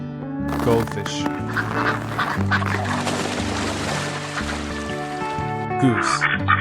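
A goose honks and quacks in a series of nasal calls with harmonic tones, close and loud, overlapping with other fowl-like cries throughout.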